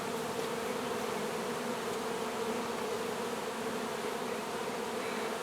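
Honey bees fly in and out of a hive in a bee yard, making a dense, steady buzzing swarm drone that holds at an even level throughout, with no voices.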